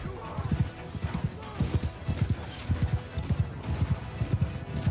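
Horses gallop in a medieval battle video game, with mounted archers charging and rapid, rhythmic hoofbeats thudding close and loud throughout, plus a brief whinny among the clip-clop.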